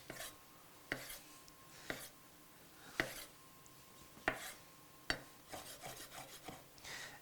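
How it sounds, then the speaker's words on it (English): A knife dices a tomato into small chunks for guacamole on a cutting board, sharp board knocks about once a second at first and then quicker, close and alone against a quiet room. "all we're simply going to do is dice up our tomato, real simple and quick, into tiny little chunks."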